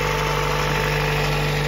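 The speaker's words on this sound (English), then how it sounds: "we want to run the engine" A Gen 4 Toyota Prius engine runs at idle during a cooling-system repair, a close, steady mechanical hum with a constant low drone and faint vibration, with no one talking.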